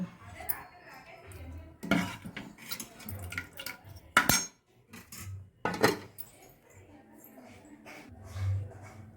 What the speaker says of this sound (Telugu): గిన్నెలు కొద్దిగా ఉన్నాయి తోమాలి